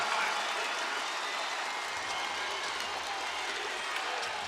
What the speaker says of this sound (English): And that ignites the crowd and gives the Grizzlies the lead at 95-93.